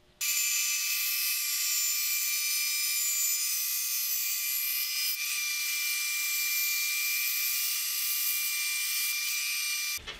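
A band saw resaws a two-inch maple board into thin guitar binding strips, producing a steady, high-pitched whine that runs loud and unbroken for about ten seconds with no pauses or talk.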